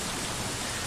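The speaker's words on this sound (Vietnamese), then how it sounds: "Trời khá là mưa luôn, gây cho mình khá là đáng sợ" Steady, dense rain in the video game Mini World, heard as an even, unbroken hiss with no voices over it.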